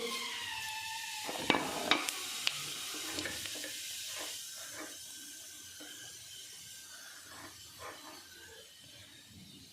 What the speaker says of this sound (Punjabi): ਹੁਣ ਇਹਦੇ ਵਿੱਚ ਅਸੀਂ ਜੀਰਾ ਪਾਵਾਂਗੇ